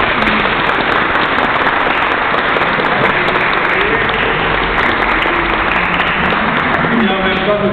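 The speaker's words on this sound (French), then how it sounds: "Alors on va applaudir Maëlys." A congregation applauds for baby Maëlys at her baptism in a church, a dense, loud, steady roar of many hands clapping together that continues without a break.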